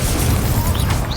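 An Incendio fire spell in a Harry Potter game, a loud broadband whooshing burst with a crackling, roaring blast that sustains through the moment, with no talk over it.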